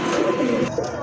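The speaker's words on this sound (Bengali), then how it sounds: "খুবই চমৎকার এক জোড়া মডার্না কবুতর ভাই" A pair of Modena pigeons cooing close by, soft throaty coos rolling continuously through the whole moment with a faint hiss in the background.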